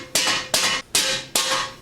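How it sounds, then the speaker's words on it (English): A hammer taps a polyurethane subframe bushing into a BMW E30 through a folded towel: four sharp, evenly spaced close-up knocks, each followed by a short ringing decay. "I've got a hammer and a piece of towel over the centerpiece, and I'm just tapping it in."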